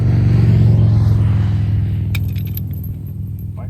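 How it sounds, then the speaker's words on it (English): A motorcycle passes on a highway with a loud, low engine rumble that slowly fades as it moves away. Metallic jingles and clinks follow near the end. "Biker going by."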